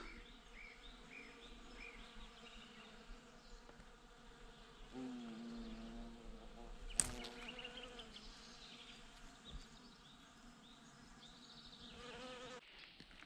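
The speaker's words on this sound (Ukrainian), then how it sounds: "бджоли гудуть" Bees buzz continuously outdoors around a flowering willow in spring, a soft steady hum with a few louder passes close by.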